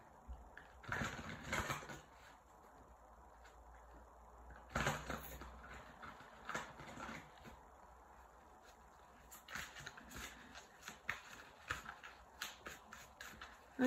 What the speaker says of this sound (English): Let's give these cards a shuffle.